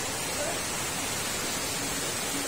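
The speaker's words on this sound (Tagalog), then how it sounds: "Ang lakas na ng ulan talaga" Heavy rain and rushing flood water from an overflowing canal, a dense, loud, steady roar with no pauses, filling the whole clip.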